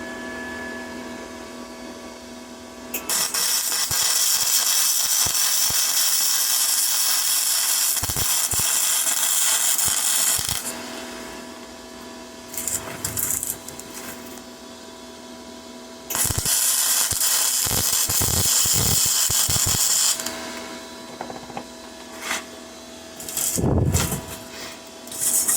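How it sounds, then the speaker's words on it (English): Flux-core welding run in a circle gives long, loud, crackling buzzes lasting several seconds each, separated by pauses filled with small clicks and handling noises. "I'm going to try to weld this in a circle."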